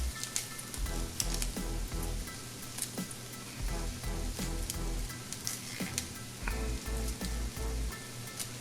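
Broccoli goes into a hot pan of tomato paste and sizzles steadily, with crackling, popping frying noise and scattered clicks and scrapes close by, and no voices.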